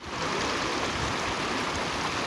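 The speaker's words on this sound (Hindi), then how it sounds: "ये नाले का पानी आ रहा है ऊपर से" A mountain stream near Khukush Lake pours down from higher ground, a steady, close rushing of water that holds an even level throughout with no voices.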